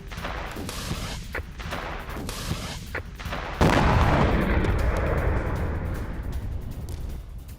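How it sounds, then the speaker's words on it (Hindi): At a border post between Afghanistan and Pakistan, soldiers open fire. Scattered sharp shots crack at first, then a heavy blast opens onto sustained rumbling gunfire that stays loud to the end. "भागते हुए अफगान सैनिकों पर फायरिंग भी की पाकिस्तान के सैनिकों ने।"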